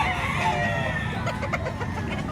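A stag gamecock at a Padre Garcia, Batangas rooster market crows loudly and close by, with clucking from other fowl and market bustle in the background.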